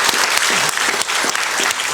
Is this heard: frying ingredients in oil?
no